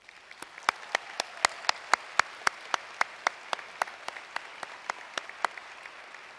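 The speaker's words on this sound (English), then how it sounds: "A round of applause for them." An audience at a university commencement ceremony claps, steady separate hand claps ringing out in an even rhythm for several seconds without other voices.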